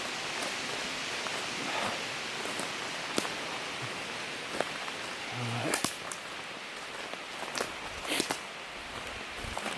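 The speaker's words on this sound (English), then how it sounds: "Yep, it's raining." Steady rain falls outdoors in cold weather near overgrown ground, a soft continuous hiss with scattered louder drops and rustles, fairly quiet and close, with no talking.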